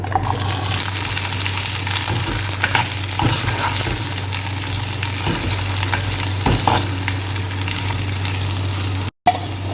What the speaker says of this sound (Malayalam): തേങ്ങ ഇട്ടിട്ടുണ്ട് ഇനി ഉള്ളി ചേർത്ത്